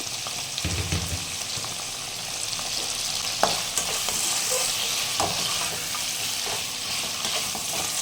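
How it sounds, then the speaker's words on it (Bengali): Prawns fry in a pan with a continuous bright sizzle, broken by occasional knocks and scrapes of stirring. "আমি একটু দু মিনিটের মতন একটু ভেজে নেব চিংড়ি মাছগুলো"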